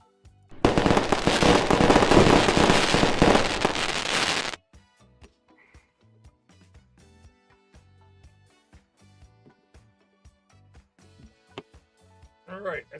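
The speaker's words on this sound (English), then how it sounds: "Get some fireworks." Fireworks sound effect bursting during a live sports card box break, a dense loud crackling barrage of rapid pops for about four seconds, then sparse faint clicks and light handling noises follow.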